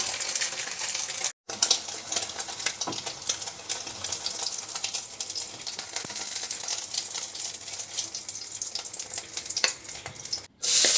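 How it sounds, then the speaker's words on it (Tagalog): Four eggs frying in hot cooking oil in a pan, a continuous soft crackling sizzle with scattered pops and spits, fairly quiet and steady throughout, briefly cutting out twice. "Magpainit muna ako ng mantika at iprito ko tong 4 na pirasong itlog."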